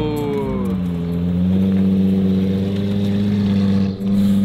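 A car engine revs loudly and close by on a Melbourne street, its high, steady scream rising and holding like a Formula 1 engine, briefly dipping near the end before picking up again.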